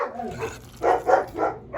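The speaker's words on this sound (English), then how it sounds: "That's somebody at the front door, and the dog's going nuts." A dog barks at someone at the front door of a home: three loud, close barks in quick succession after a softer whine, heard alone with no talk.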